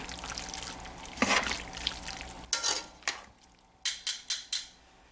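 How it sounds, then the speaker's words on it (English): Tongs scrape and clack against a cast iron pot as tender cooked meat is pulled apart for Brunswick stew, a few scattered scrapes followed by a quick run of four sharp metallic taps. "I'm just shredding this with tongs"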